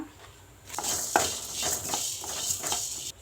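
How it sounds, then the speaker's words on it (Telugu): Coriander seeds, cumin, pepper and fenugreek dry roasting in a pan for mutton paya, giving a soft steady rustle and hiss with scrapes of a stirring spoon, close by, with no talking. "ధనియాలు, జీలకర్ర వేపుకుందాం."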